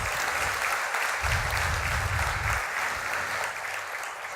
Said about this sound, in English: I think you please give her a big round of applause here.